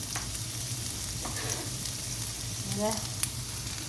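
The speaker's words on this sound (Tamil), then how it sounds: "சரித்து வச்சு வதக்கி கிண்டிடுவாங்க" Diagonally sliced okra is sautéed and stirred in a pan. A loud, steady sizzle continues throughout, broken by scraping stirs and a couple of small spatula clinks, with no voices.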